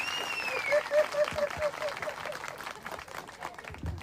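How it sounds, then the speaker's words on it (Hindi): A church congregation claps in applause at a preacher's call, a moderate crowd sound with a voice over the start. "जोर से ताली बजाइए।"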